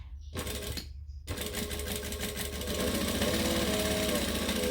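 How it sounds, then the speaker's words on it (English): Close, loud sewing machine stitching and backstitching a bag pocket: two quick starts broken by pauses, then one long continuous run that grows steadily stronger. "Stitch and back stitch in the end, swivel, jump over to the other side, stitch and back stitch"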